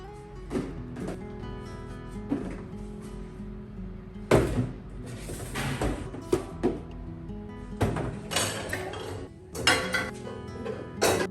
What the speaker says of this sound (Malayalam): ഓരോ ബോക്സ് ഓപ്പൺ ചെയ്തിട്ട് അതിൽ നിന്ന് സാധനങ്ങളൊക്കെ ഇതാ ഷെൽഫിൽ എടുത്ത് വെക്കുകയാണ്